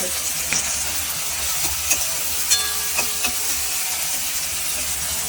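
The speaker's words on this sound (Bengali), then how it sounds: "যে পেঁয়াজ ভাজা হচ্ছে" Onions frying in a pan, a steady close, loud hiss and sizzle with occasional sharper pops and faint stirring clinks, no talking.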